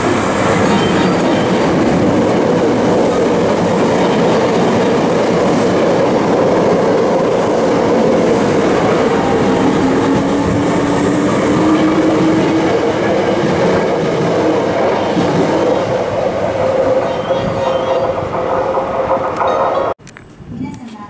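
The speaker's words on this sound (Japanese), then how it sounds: "ただいま電車が通過します" A Hankyu Kyoto Line train roars steadily through Aikawa Station at close range, wheels clattering and squealing for a long stretch before the noise cuts off abruptly.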